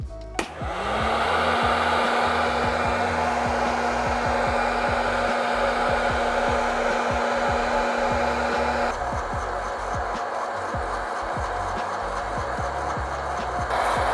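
A hot air device, likely a heat gun or hair dryer, blasts steadily for home roasting coffee beans, a loud continuous airy roar with a low hum, and faint rattling from beans shaken in a container underneath.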